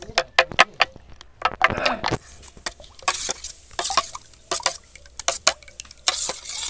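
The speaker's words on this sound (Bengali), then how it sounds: "এর মধ্যে কর্নফ্লোরটা দিয়ে আমি মিশিয়ে নেব" Cornflour being stirred into a mixture for homemade orange jelly, giving a run of irregular clinking, scraping taps against a bowl, mostly close and fairly clear with short pauses between strokes.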